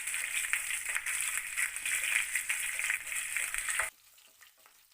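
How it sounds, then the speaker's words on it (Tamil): Garlic, cut green chillies and curry leaves fry in a pan for brinjal kadayal with a loud, steady sizzle and stirring, then the sound cuts off sharply to near quiet. "இதெல்லாம் சேர்த்து இப்போ கலந்து விட்டுடலாம்."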